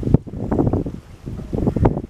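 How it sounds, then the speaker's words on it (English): Strong wind buffets the microphone beside the Thompson River, coming in loud, low gusts that swell and drop in irregular bursts over a couple of seconds. "it's starting to get super windy here"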